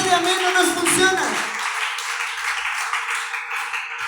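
A church congregation at an IPUC service in Tunja breaks into applause: a voice speaks briefly, then a sustained hiss of many hands clapping carries on to the end.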